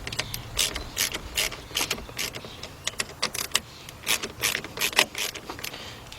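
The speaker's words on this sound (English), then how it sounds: "let's tighten it up." A ratchet wrench tightens a bolt on a 1992 Ford Ranger, giving rapid bursts of sharp clicking in quick irregular runs, close and loud, with no talking.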